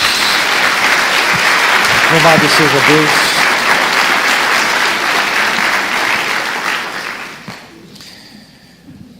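A church congregation claps for Jesus in loud, continuous applause while a voice speaks briefly over it, then the clapping thins and fades out near the end.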